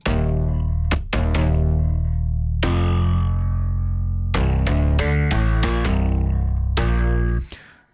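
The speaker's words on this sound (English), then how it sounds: "when I have those two things together, the Grove bass and the synth bass" A groove bass and a synth bass play together in an electronic production, forming thick, distorted low-end notes with sharp stops and restarts, loud and upfront, with no talking.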